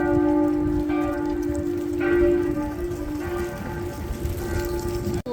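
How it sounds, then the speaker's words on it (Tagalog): A church bell in Europe rings with a sustained, humming tone, struck a few times over steady rain-like background noise. "Ang kampana narinig ko."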